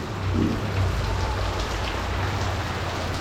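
Heavy rain pours steadily onto surfaces around a house as a typhoon approaches, a dense, continuous hiss close by with a low rumble beneath and no voices.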